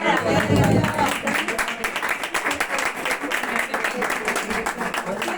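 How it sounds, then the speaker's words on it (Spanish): An audience at a gastronomic gathering applauds a speaker, a brisk, steady clatter of many hands with voices talking over and around it. "Un aplauso"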